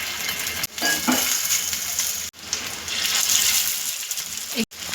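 Chicken keema cutlets frying in oil in a pan give off a steady, close broadband sizzle, broken by a few brief cuts of near silence.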